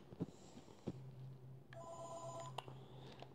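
Phone ringing in the video game Five Nights at Freddy's 3: faint, quiet ringtone tones with a low hum underneath, plus a few soft clicks.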